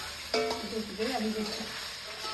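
Pasta frying in a pan with capsicum, onion and chili gives a steady close sizzle, with a sharp clatter near the start as the pan is stirred.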